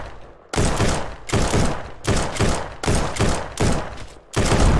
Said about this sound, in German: Und jetzt Sniper gegen Sniper.